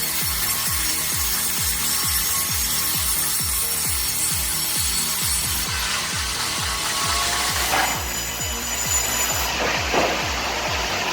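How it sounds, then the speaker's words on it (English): Continuous loud mechanical sawing from a modern sawmill with a closed-loop system cutting large logs, a steady rapid rhythmic rasp running throughout with some higher scraping toward the end, no voices. "Our modern sawmill solves that problem with a closed-loop system and professional processing tools, ready to cut through even the largest logs without breaking a sweat."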